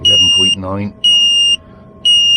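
A low-voltage alarm on a portable power station gives three loud, piercing beeps of about half a second each, evenly spaced, while a voice speaks briefly between the first two.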